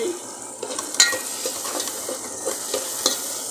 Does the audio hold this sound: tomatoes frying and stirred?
yes